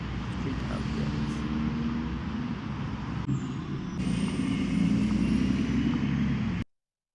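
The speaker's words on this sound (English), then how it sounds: "Street ambience." Street ambience: a steady, dense wash of traffic rumble with passing vehicles and a brief air-brake hiss, continuous and fairly loud throughout before cutting off abruptly at the end.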